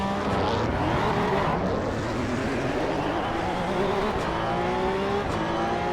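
Race car engines roar together at a race start in the Assetto Corsa Evo driving game, a dense, loud, sustained wall of revving with rising and falling engine pitches overlapping throughout.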